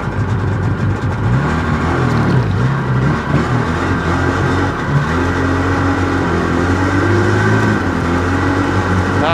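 A 1997 Sea-Doo GTI jet ski with a 720 engine runs loud and steady on the water, its drone rising and shifting in pitch as it pulls away, with no voices over it.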